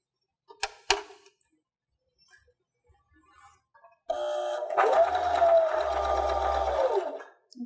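A sewing machine stitches a 1/4-inch seam through quilted batting for a sunglasses case, a close, steady motor hum running about three seconds after a few faint clicks and handling sounds.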